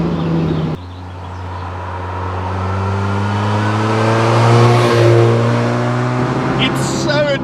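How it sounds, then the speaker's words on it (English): A supercharged Mk1 Mazda MX5 revs hard, the engine note climbing and holding as a thin, rising supercharger whine rides on top of it, loud and close, then easing off near the end. "Let's get some more supercharger noise."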